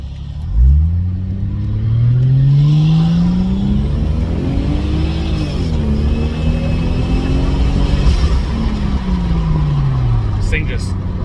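A Lexus IS300 with a 2JZGTE engine rises through its revs in clear, rising engine pulls with shifts between them, heard from inside the car with a loud, throaty drone and road rumble beneath.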